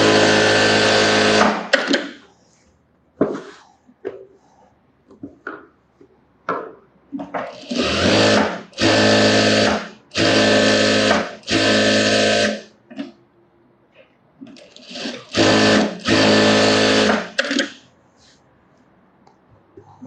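Sewing machine stitching a sleeveless model blouse in a tailoring session, running in several loud bursts of a second or two each with short pauses between, no speech.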